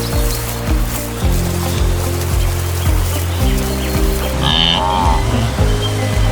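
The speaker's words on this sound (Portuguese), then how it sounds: "Os balidos dos filhotes são cortados, apressados." Wildebeest calves bleating at the Mara River crossing, short clipped calls repeating over a loud constant low rumble of the herd and water.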